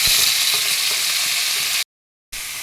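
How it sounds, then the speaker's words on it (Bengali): Boiled pumpkin hits hot oil with dried chilli in a pan, a loud close steady hiss of frying with faint stirring scrapes, broken by a brief cut to silence before the sizzle resumes. "এবার আমি এই সিদ্ধ করা কুমড়োটা দিয়ে দিচ্ছি"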